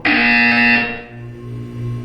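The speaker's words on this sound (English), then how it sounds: "When you hear the buzzer, look down at the floor." A loud, harsh electronic buzzer in Portal 2 blares steadily for under a second, then cuts off into a lingering lower hum and ringing tones that fade and swell slightly.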